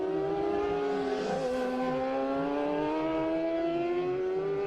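A racing motorcycle at the Senior Manx Grand Prix roars past on the road circuit, its high-revving engine rising and falling in pitch as it approaches, sweeps by and fades, loud and alone.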